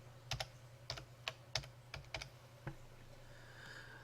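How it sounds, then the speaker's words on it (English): Keystrokes on a computer keyboard as a username is entered, about nine separate clicks in short bursts over steady low hum, fairly faint and close, no talking. "the way that we would add a contributor or a new user is simply to type in their username in this field"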